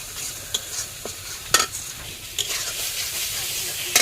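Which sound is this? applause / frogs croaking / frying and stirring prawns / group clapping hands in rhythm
frying and stirring prawns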